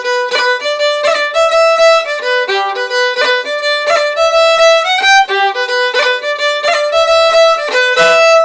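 A Highland bagpipe melody with grace notes ornamenting the repeated notes, droning chanter tones held steady throughout, loud and continuous with no talking.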